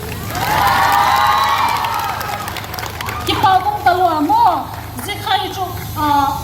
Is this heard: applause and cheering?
yes